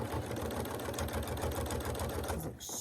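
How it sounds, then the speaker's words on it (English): A sewing machine fitted with a walking foot stitches through a thick quilted hot pad, running as a steady, close, continuous whir with a fast rhythmic pulse before stopping near the end. "I'm just going to start sewing. I'm using a walking foot."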